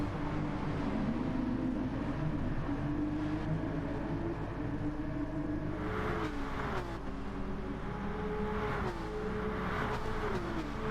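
Race cars in Gran Turismo Sport, a Porsche and Volkswagen battle, engines droning steadily with pitch rising and falling through gear changes and braking into a chicane, a loud continuous motor tone.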